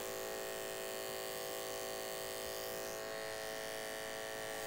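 Electric hair clipper with a 1/8 inch guard running flat against the skin during a low fade haircut, a steady close buzz with a high whine that holds evenly throughout.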